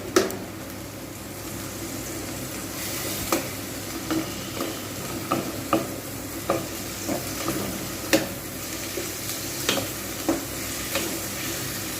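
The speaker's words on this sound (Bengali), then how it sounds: "সময় ধরে পেঁয়াজটাকে খুব ভালোভাবে ভাজবো" Onions fry slowly in a pan for an egg korma, producing a steady, even sizzle under regular light scrapes of a spatula stirring at a relaxed pace.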